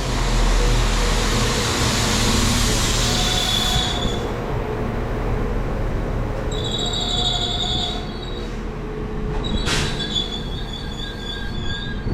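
A passenger train arriving at Carmarthen platform on the Pembroke Dock to Swansea service rumbles loudly along the rails with high-pitched wheel squeals and a brief sharp screech, steady mechanical noise throughout.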